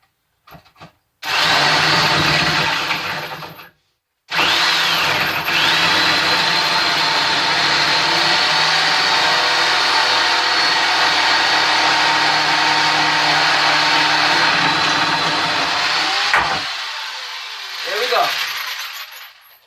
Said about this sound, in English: we're going to use the jigsaw to finish it off here